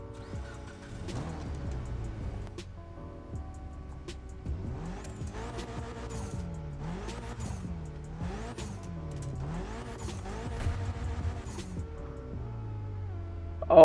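A street-tier car in The Crew Motorfest starts up and drives, its engine revving in repeated rising and falling sweeps with continuous tire noise and no talking.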